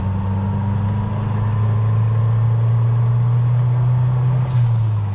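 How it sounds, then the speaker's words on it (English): A 1987 Chrysler Conquest's turbocharged engine pulls while driving, giving a loud, steady low drone with a faint whine riding on top, uninterrupted and close. "when I do, those turbo noises just make me smile so much"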